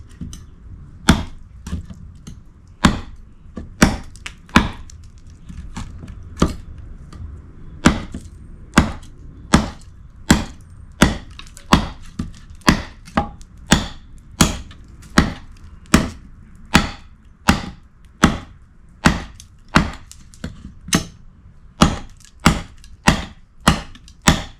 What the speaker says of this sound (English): I'm going to try to chop this.